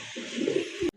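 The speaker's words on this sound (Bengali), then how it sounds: "মাশাআল্লাহ এক জোড়া মুখী কবুতর" One pigeon from a pair of mukhi pigeons gives a single soft, close coo lasting under a second, then stops abruptly.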